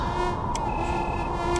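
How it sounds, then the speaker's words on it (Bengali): Mosquito whine, a thin continuous buzzing drone held steady and close for the whole short stretch, with faint chirps overhead and no voices. "আর মশার পিনপিন শব্দ ঘিরে ধরছিল আমাকে।"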